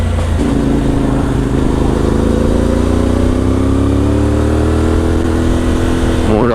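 A CF Moto 450MT motorcycle engine hums steadily while riding, a loud, close drone with rising harmonic tones as it accelerates through the gears, holding level throughout.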